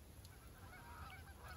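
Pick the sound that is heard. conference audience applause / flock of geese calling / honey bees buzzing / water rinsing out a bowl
flock of geese calling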